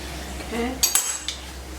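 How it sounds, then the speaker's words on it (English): Cutlery scrapes across a plate to push leftover food bits off, a few short, close clinks and scrapes of metal on crockery in a quiet kitchen. "Scrape all the bits off the plate back into there."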